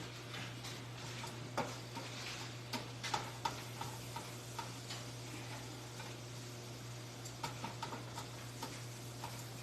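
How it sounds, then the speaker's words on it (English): A whisk works flour into butter and softened vegetables for a seafood chowder roux, giving steady soft ticking scrapes against the pot under a constant low hum, with a few sharper clicks along the way. "I'm going to whisk in this flour right into the mixture that had the butter with the vegetables"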